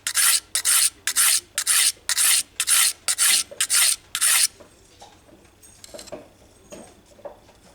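A steel blade is stroked back and forth on a 400 grit diamond sharpening stone, giving about nine steady, close rasping passes in an even rhythm, followed by a few softer, scattered scrapes as the strokes slow and stop.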